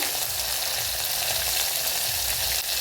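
Pounded green chili, garlic and curry leaves fry in hot oil for varan, giving a loud, steady sizzle that holds close and unbroken throughout.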